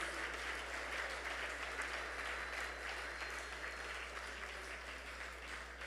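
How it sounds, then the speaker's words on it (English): Sustained applause from an awards-ceremony audience honouring cultural awardees, a dense, steady wash of many hands clapping with no voices on top, holding even throughout. "I would like you to put your biggest round of applause for all 10 of"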